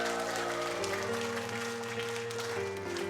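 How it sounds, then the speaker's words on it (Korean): Church audience applauding at a senior school trot hymn class, steady clapping running beneath sustained music tones throughout the short stretch. "다 같이 박수로 청해 듣겠습니다"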